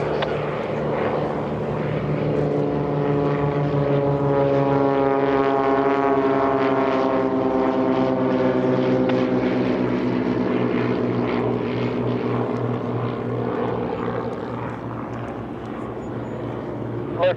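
Warbird propeller airplanes taking off at EAA AirVenture, a loud sustained engine drone that swells and holds steady with a wavering harmonic pitch, with faint voices underneath.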